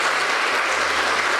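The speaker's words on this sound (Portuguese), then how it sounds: "Vamos dar uma salva de palmas para o Senhor, irmãos" Sustained applause from a church congregation during an evangelical service in São José do Calçado, fills the room evenly and continuously, with no voices standing out.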